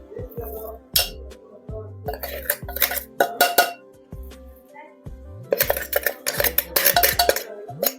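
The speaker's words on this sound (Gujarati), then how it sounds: "આપણે પાછા આને આ ડીશમાં બધા મિક્સ કરી લેશું" Ground sesame seeds being mixed in a metal dish for sesame chikki, with repeated clinking, scraping and tapping of utensil against the dish in irregular bursts, close and fairly loud, no talking.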